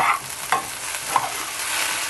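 Sweet potatoes and onion are frying in a pan as a spoon stirs them. Close, steady sizzling is broken by a few scraping strokes of the stir, with no talking.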